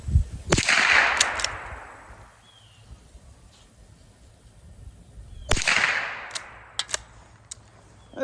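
Two sharp gunshots from a .22 Browning lever-action rifle crack outdoors, a few seconds apart, each trailing a short echo with quiet between.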